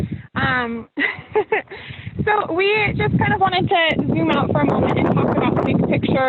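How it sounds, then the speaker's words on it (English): Gusty wind buffets the microphone outdoors on a farm with low rumbling roar while a person talks over it. "Sorry about the wind"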